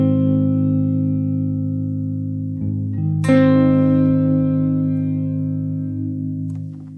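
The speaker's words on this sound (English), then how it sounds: "you got this bounce mode, which is sort of like granular, reflective reverb." Sustained synth tones pass through the granular, reflective bounce-mode reverb of an AI music plugin, with a bright burst midway that trails off into a long, shimmering, fading tail.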